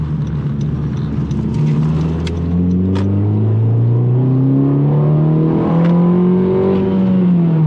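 A 9th-generation Honda Accord engine with a tune pulls hard through its rev range, loud rising engine tone climbing in pitch through gears, heard from inside the car.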